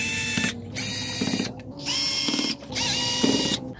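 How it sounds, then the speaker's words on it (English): A DeWalt cordless drill backs screws out of a mini PC's bottom plate in four short whirring bursts separated by brief pauses, close and fairly loud, with a ratcheting clatter under each run. "I'm gonna go ahead and recommend a good cordless drill like this DeWalt"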